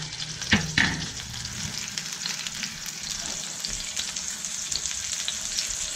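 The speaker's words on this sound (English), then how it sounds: "You can tip the pan to the side here and just kind of baste it with some of that butter" A porcini-crusted sous vide ribeye sizzles steadily in butter in a tipped pan as it is basted, with a couple of sharp clatters of spoon against pan early on over a continuous frying hiss.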